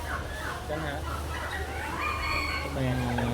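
Chickens and a rooster at a Thai market cluck and crow repeatedly, close by, under the steady bustle of the marketplace while people talk nearby.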